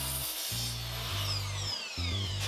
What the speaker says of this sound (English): go to the miter saw and cut it at the final length